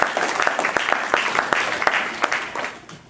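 An audience at an evening community panel on police response to the mentally ill breaks into a few seconds of steady, dense applause, with many overlapping claps close by that fade slightly at the end.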